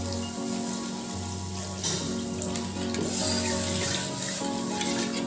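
Water poured into hot sizzling masala for a fish curry in a pan, a steady loud hiss and bubbling frying sound up close with a faint clatter of stirring.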